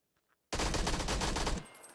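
A burst of rapid automatic gunfire erupts abruptly after a near-silent moment in an esports match video game, a loud, dense rattle of shots lasting about a second before cutting off into a faint tail.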